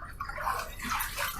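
A razor is rinsed in running water partway through a wet shave, with steady splashing and sloshing for about a second and a half, close and moderately loud.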